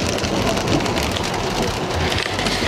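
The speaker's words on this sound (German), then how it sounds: "Das ist super chillig mit dem Regen." Steady heavy rain pouring outdoors at an enduro mountain bike race, a loud, dense, continuous hiss of drops on surfaces with no voices over it.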